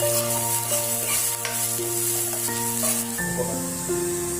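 Chopped onions frying in oil in a pan for home-style dahi chicken, a steady close sizzle running throughout with light stirring scrapes over a constant hum.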